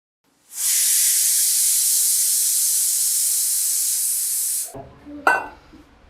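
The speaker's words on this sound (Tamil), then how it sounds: "நீ போயிட்டு வர கேப்பில் குக்கர் விசில் வந்துடுச்சு" A kitchen pressure cooker whistles, releasing a loud, steady hiss of steam for about four seconds, then cuts off abruptly, followed by brief clattering handling sounds.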